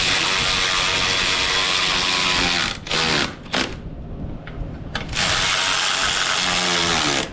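A ratchet works on strut bolts of a 2006-2013 Chevy Impala during strut replacement, giving a loud, close run of rapid clicking that pauses briefly midway and then resumes.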